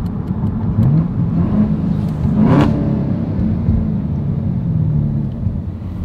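A 2018 Chevrolet Camaro ZL1 with a secondary cat delete exhaust idles with a deep, steady rumble, then blips the throttle into a quick, loud rising rev that falls back to idle.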